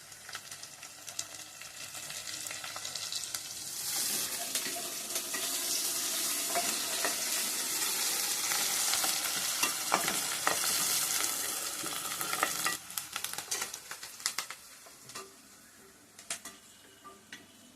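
Onions, green chilies and curry leaves fry steadily in oil for a dry mutton curry, a dense continuous sizzle with repeated scraping stirs and light pan clinks that eases off toward the end.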